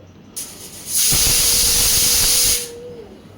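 Pressure cooker whistling as it releases steam while cooking tomato dal and rice, a loud close hiss rising, holding for about two seconds with a faint whistle tone, then fading, no talk.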